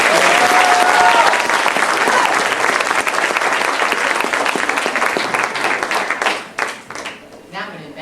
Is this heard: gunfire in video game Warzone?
no